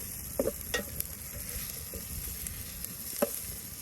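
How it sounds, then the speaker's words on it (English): Onions caramelize in a pan over a wood fire outdoors in the woods, giving a soft, low sizzle punctuated by a few light scraping knocks of a utensil stirring them. "now that we got our onions nice and caramelized"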